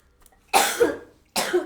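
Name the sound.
cough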